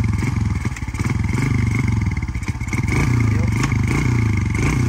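Motorcycle engine idling and revving loudly up close as riders set off, a steady throbbing drone with rising throttle surges and faint voices underneath.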